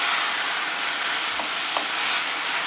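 Bacon, garlic and onion sizzle loudly in a hot pan as they are stirred, a continuous close frying hiss with faint scrapes.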